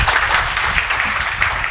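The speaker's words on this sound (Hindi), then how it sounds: "तालियों से स्वागत करें" An audience claps steadily in applause, welcoming an honoured guest at a felicitation ceremony, dense and sustained with no voices over it.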